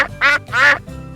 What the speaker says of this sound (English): it is a duck.